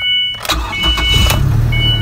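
A Ford Escape 2.3-litre 4x4 automatic engine cranks briefly, catches, and settles into a smooth running idle, heard up close with a faint electronic chime in the background.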